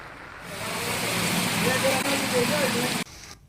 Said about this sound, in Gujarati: ધોધમાર વરસાદ શરૂ થયો છે